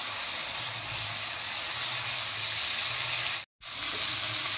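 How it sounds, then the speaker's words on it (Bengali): Masala spice paste with sugar sizzles steadily in a pan while being sautéed for paneer butter masala, a dense continuous frying hiss close up, briefly cut out near the end. "আর মশলাটাকে ভালো করে কষিয়ে নেব।"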